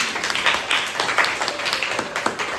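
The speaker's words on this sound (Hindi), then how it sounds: "सुनेली के लिए तालियां" A small group of children claps for the winner of a classroom number game, a steady patter of hand claps lasting a few seconds at moderate volume.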